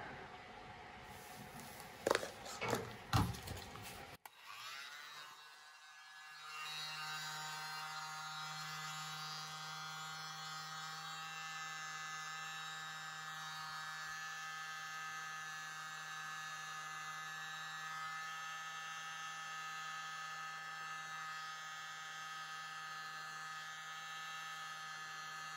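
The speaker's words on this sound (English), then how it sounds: "I'm gonna use my mini blower today." A mini blower used in fluid art pour painting starts up after a few soft clicks and handling knocks, then holds a steady, thin electric whine with a faint hum for the rest of the time, close by and with no talk.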